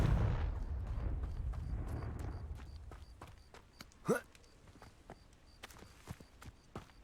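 Confringo fire spell cast in Hogwarts Legacy: a sharp whooshing burst blasts out midway, after a fading low rumble, then scattered clicks and thuds follow, ending on a loud hit.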